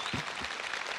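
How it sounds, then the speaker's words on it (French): Audience applause at an actors' panel at a Toulouse gaming convention, a dense steady patter of clapping from a crowd filling the short stretch, moderately loud with a couple of low thumps early on. "Applaudissements s'il vous plaît pour Christine"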